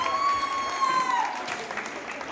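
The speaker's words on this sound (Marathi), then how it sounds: "माऊलीसाठी जोरदार टाळ्या।" Clapping from a crowd at a women's political rally in Vita, steady throughout, with a brief whistle-like tone early on.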